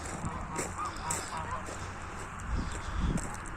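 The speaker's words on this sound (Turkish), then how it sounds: "Yine kazlarımız" Geese honk repeatedly in the background amid farmyard noise on a mixed farm in Kayseri, Turkey, with someone talking over them throughout.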